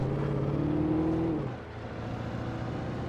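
A car engine in the video game Alan Wake drones steadily, its pitch rising then dropping off mid-clip before settling into a lower, continuous hum, loud and close.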